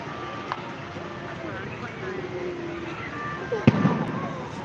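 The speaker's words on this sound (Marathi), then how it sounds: "बघ तिथे कसे फटाके वाजत आहेत" Firecrackers bursting at a distance: a faint pop early on, then a sharper, louder crack near the end, over steady background noise and murmuring voices.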